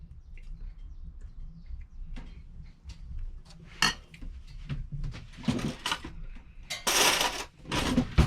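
A serving spoon clinks against dishes while food is served aboard a narrowboat, with scattered light taps and clatters, some sharper knocks near the end, in a quiet room.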